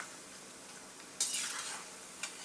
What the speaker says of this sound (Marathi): आता त्याला चांगलं फ्राय करते।